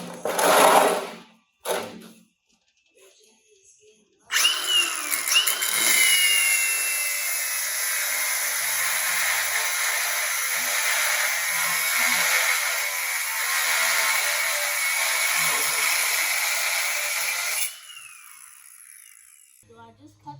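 A high-pitched power tool whines steadily for about thirteen seconds while cutting off a steering unit, loud and close, after brief clatter and a quiet pause, then winds down as it stops.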